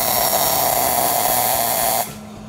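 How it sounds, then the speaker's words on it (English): A MIG welder lays a quick tack weld on scrap metal for a buffalo sculpture, giving a steady, loud buzzing crackle for about two seconds that stops abruptly into quieter room tone. "that's one quick tack weld"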